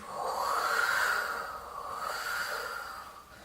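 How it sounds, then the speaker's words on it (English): Breathy, airy shakuhachi tone swelling and fading in two soft waves, mostly rushing air with little pitch, close and moderately quiet. "this breath sound is getting louder"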